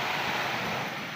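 Broadband wash of sea waves at a seashore on a Sunday outing, a steady near roar with wind noise buffeting the microphone throughout, no voices.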